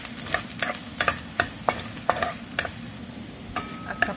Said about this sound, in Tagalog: Painitin na ulit ang kawali at maglagay ng konting olive oil. At ilagay na ang bawang.